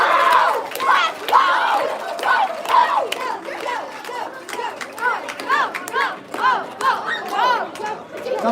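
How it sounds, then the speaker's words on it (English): A crowd at a school closing-day ceremony claps and cheers, with excited voices, shouts and chatter mixed through the applause in irregular bursts. "Let's give him a good clap."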